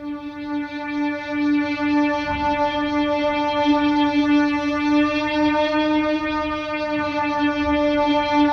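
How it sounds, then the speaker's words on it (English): Sustained string tones drenched in echo, reverb and chorus-like modulation, a thick processed pad holding steady throughout with no pauses. "Let's pick up just random effects from the guitar rig, and let's activate."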